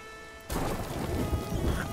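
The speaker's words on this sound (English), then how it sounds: "Got struck by lightning." A lightning strike in the Sea of Thieves video game hits with a sudden loud crash after half a second of near quiet. A rumbling, crackling roar of thunder follows and holds steady to the end.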